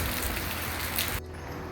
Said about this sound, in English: The Asian rain has come. It is pouring.